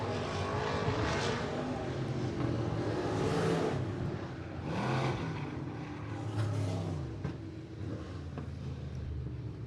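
IMCA race cars roar around a dirt track at Sunset Speedway Park, several engines revving and accelerating loudly together with rising and falling passes close by.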